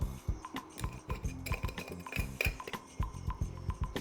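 A spoon clinks and scrapes against a bowl while a paprika spice rub is mixed, with quick, irregular metallic taps and stirring, close and fairly quiet.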